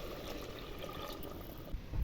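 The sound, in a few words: water poured into pot for cooking rice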